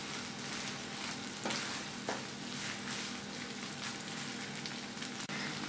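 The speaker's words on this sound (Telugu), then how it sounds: "నెయ్యి వేసుకున్న తర్వాత ఇలాగా ఒకసారి మొత్తం మిక్స్ చేసుకోవాలి." Vermicelli cooks in ghee in a pan for semiya kesari, giving a soft, continuous frying sizzle with a few light scrapes of the stirring spoon, fairly quiet and close, without voices.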